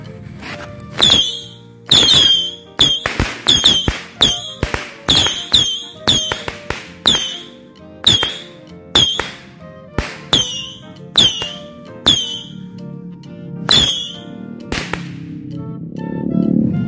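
Small firecrackers go off in a rapid series of sharp, loud cracks and pops with short gaps between them, some bursts ending in a brief crackle, before tapering to a soft hiss.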